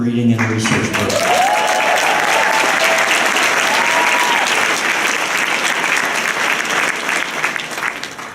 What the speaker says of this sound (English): Save some of that applause, it gets better.